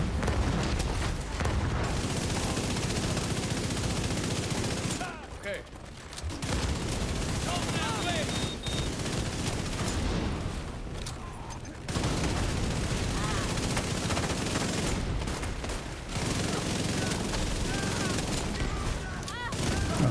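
Continuous heavy automatic gunfire from a minigun in a video game, loud dense bursts that drop out briefly around the middle and resume, with a voice talking in the background.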